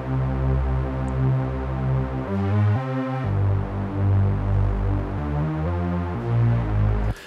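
Layered Roland Jupiter synthesizer chords with micro shift spreading the accent notes, sustained sample-style pads that swell and change pitch in short phrases, alone with no talking.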